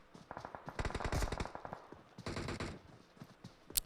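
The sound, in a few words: gunfire in a battle royale video game match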